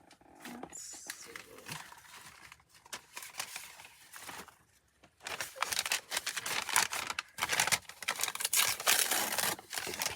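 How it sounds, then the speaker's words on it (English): Packing paper is crumpled and handled at close range in a crafting session, with irregular crinkling bursts that grow denser and louder in the second half. "Big piece of packing paper here."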